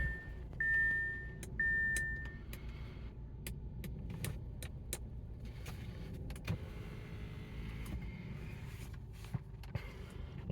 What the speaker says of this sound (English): open the windows a little bit, it's very hot